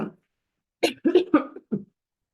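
A short cough, a pause, then a quick run of four harsh coughs close to the microphone.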